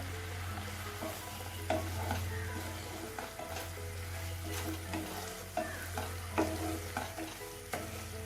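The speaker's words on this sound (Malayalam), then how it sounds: "നമ്മൾക്ക് ലോ ഫ്ലെയിമിൽ ഇട്ടിട്ട് ഒന്നും കൂടെ ഒന്ന് ഇളക്കാം" Carrot halwa is stirred in a pan over a low flame, a spoon scraping and knocking in irregular strokes over a soft, steady sizzle and a constant low hum.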